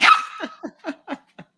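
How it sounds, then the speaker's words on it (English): A small dog barks loudly and close, one harsh opening yelp followed by five quicker, evenly spaced yaps tapering off, with no voices present. "We don't know whose dog this is."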